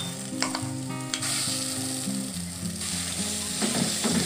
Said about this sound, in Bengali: ডালটা তেলের মধ্যে ভালো করে নেড়ে চেড়ে ভেজে নেব।